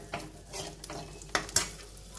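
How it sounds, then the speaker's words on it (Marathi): Corn and chopped spring onion sautéed in a pan for mustard sauce pasta: a steady soft sizzle with a few sharp scraping stirs and clinks of a spatula against the pan, close up and with no talking. "आता हे पण एक दोन मिनिट आपल्याला याच्यामध्ये परतून घेऊया"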